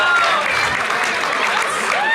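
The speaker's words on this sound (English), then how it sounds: "The crowd goes wild." A live comedy audience at Kill Tony breaks into loud, continuous applause and cheering, a dense wash of clapping and shouts that stays strong for the whole short burst.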